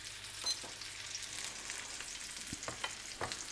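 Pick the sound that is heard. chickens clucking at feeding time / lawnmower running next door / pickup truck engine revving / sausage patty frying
sausage patty frying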